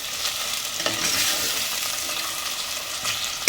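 Chopped tomato hitting a hot pan for mutton keema biryani, a steady loud sizzle and frying hiss with light stirring scrapes, close and continuous with no talking.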